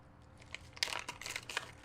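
Close, soft crinkling of wax paper wrapping from a Ziploc bag, quiet at first and then a busier flurry of rustles and crackles as it's handled.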